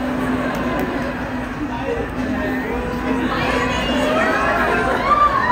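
A large concert crowd screams and cheers together on cue at a show in Seattle, loud and sustained throughout, with high shrieking voices rising toward the end.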